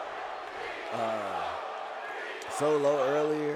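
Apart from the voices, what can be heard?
wrestling crowd chanting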